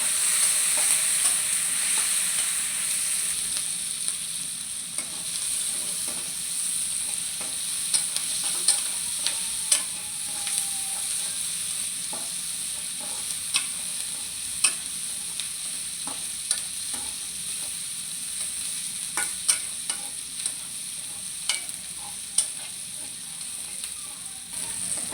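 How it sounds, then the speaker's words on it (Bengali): Onions, chilli and crushed garlic fry in oil with a steady, soft sizzle. Sharp clicks and taps of a spatula against the pan keep coming at an irregular pace, close and clear, with no voices. "তো এই যে আমার পেঁয়াজ ভাজা হয়ে গেছে, আমি বেশি ভাজবো না, হালকা পরিমাণে ভাজা নিচ্ছি।"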